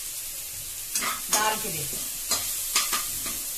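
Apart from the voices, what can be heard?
cumin, ginger, garlic, onion and green chilli frying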